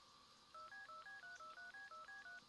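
A steady run of DTMF telephone dialing tones from the video game Unheard, about a dozen short evenly spaced beeps at moderate level with no talk.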